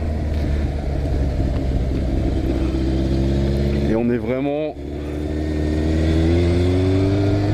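Yamaha Fazer 600 FZS 2002 motorcycle engine droning steadily while riding, a low continuous rumble with rising and falling gear tones in the middle, under someone talking throughout.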